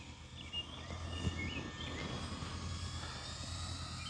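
An E-flite Twin Timber 1.6 m RC model plane flies over a grass field with tall grass, its electric motor a steady, moderately distant whine and drone that lasts throughout, with no voices heard.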